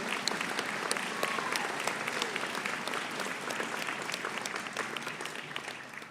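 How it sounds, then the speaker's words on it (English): Sustained round of applause from the crowd at a summer convocation graduation ceremony, steady dense clapping at moderate distance holding even for several seconds. "So let's give them a round of applause"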